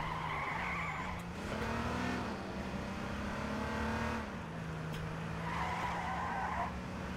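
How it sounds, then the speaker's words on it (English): Police car in the game H1Z1 driving with a loud steady engine drone and long tire-squealing skids as it turns and slides, at moderate volume with almost no talk. "This is a brand new cop car."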